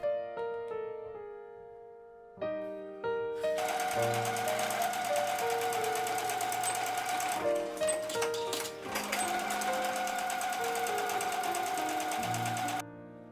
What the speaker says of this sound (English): Sew the sides and bottom except the corners